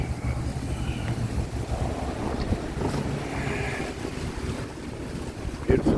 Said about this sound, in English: this water, this is running water too